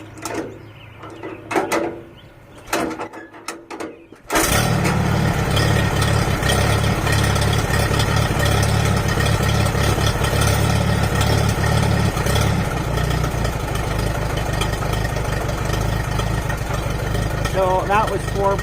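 Vintage Allis Chalmers tractor, a B, C or CA model, hand-cranked until the engine catches after a few quiet tries, then running loud and steady with a constant idle throb to the end, while a person talks over it.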